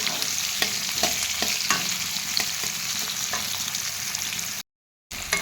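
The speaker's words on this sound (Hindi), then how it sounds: "एबे मु पियाज को पकई भाजीबी।" Onions frying lightly in a pan for a cauliflower curry give a soft, continuous sizzle with a few faint scraping stirs, close and steady, then a brief silent gap before the sizzle returns.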